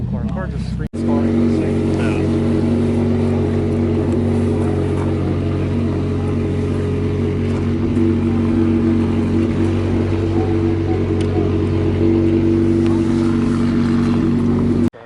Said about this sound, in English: So this thing's a Lancia Delta Integrale.